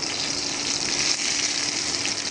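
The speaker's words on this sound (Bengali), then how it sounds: "আর এক পাশটাও জাস্ট সেভাবে করেই ভেজে নিব" Pieces of pointed gourd (potol) fry in hot oil in a pan, giving a loud, steady, close sizzle with a dense hiss that holds evenly throughout, no voices.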